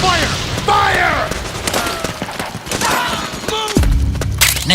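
Scattered gunfire pops and cracks in Metal Gear Solid 4 on the PS3, with sharp shots mixed into a busy battle scene. Voices shout over the shooting, and a deeper boom lands near the end.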